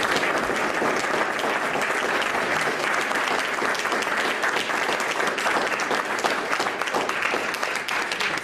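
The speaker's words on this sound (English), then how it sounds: "Everybody, let's give David another round of applause." A crowd gives sustained, loud applause for speaker David Horowitz at a talk, thick continuous clapping holding at full strength from start to finish, with faint voices mixed into the wash of hands.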